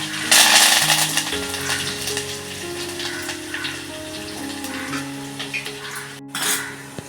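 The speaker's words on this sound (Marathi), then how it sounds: "हे बघा तेल गरम झालेलं आहे त्याच्यामध्ये ही मोहरी टाकते मी लसूण टाकते आणि कढीपत्ता" Mustard seeds, garlic and curry leaves sizzle and crackle in hot oil for a Konkan-style mango raita, a steady close frying hiss with a few sharp pops and light clinks of a pan, with steady tonal hum beneath and no talking.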